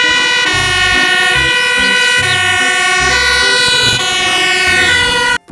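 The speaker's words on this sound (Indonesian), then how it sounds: "Wadidaw, mobil pemadam kebakaran." A fire truck's siren wails loudly and close, a rich harmonic tone stepping through repeating high-low cycles for about five seconds before cutting off abruptly, with no voices over it.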